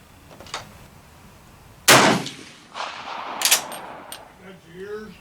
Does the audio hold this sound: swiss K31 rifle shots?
yes